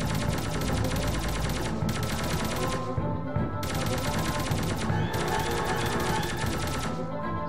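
Enemy gunfire in the dark shooter game Rodina blares in long sustained bursts of rapid automatic fire, loud and close, broken by a short pause around the middle.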